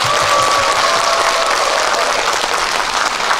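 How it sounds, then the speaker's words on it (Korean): Dense, loud audience applause fills a hall at the Incheon Jung-gu Culture Center during a singer's concert, a continuous wash of many hands clapping without pause. "박수 쳐드리고 싶습니다"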